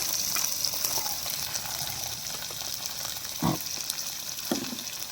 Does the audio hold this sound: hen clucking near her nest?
no